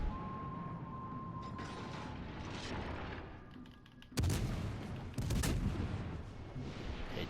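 Naval guns firing in World of Warships Legends, from the USS Flint: two loud booming salvos, the first near the midpoint and a second about a second later, over a steady low rumble of ship engine and sea ambience.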